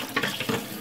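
Hot water running from a kitchen tap for washing a baby bottle, a brief, close, steady splashing stream with no voices.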